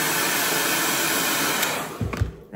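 A hair dryer blows steadily and loudly up close as hair is blow-dried over a round brush, a continuous broadband whoosh that dips and shifts briefly near the end as the airflow is moved.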